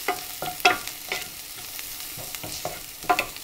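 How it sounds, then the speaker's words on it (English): Brussels sprouts stir-fried Indian style with turmeric powder, with a quick run of scraping, clattering stirs over a light sizzle, close and fairly loud. "Give it a good mix."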